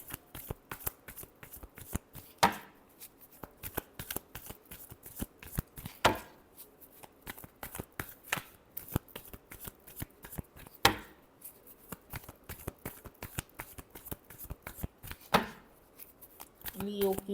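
Tarot cards are shuffled up close in a long series of sharp, papery slaps and riffles, with occasional louder snaps every few seconds and a voice speaking faintly underneath.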